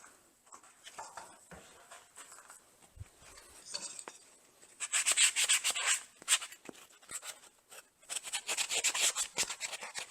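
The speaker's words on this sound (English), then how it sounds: "So now we'll just do a little bit of sanding." Small scrap wood pieces of pine baseboard molding, fence picket and alder are sanded by hand in close, raspy rubbing strokes that come in bursts, with brief pauses between passes.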